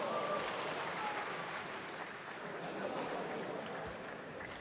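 A snooker crowd at the International Championship applauds steadily throughout, a dense, even wash of clapping from a large audience with no pauses.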